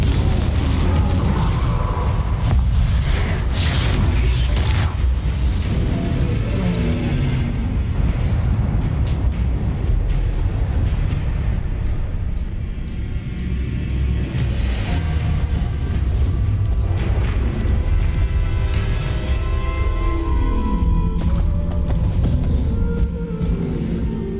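Confringo explosive spells in Hogwarts Legacy, a dense run of booming blasts and crackling bursts over a constant heavy low rumble, loud and close throughout, with battle noises layered in.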